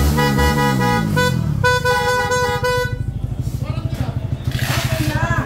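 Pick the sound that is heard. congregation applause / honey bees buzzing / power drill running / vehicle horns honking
vehicle horns honking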